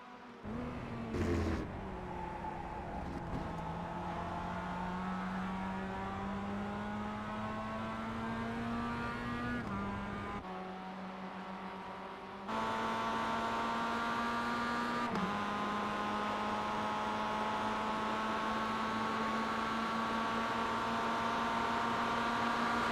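Race cars running at Daytona International Speedway: a continuous loud engine drone with rising and falling pitch, a brief sharp burst early on and an abrupt jump in level midway, with no talk.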